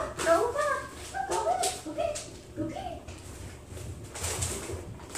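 A dog in a room whimpers and makes soft cooing, bird-like vocal sounds in short repeated bursts under ongoing indoor talk.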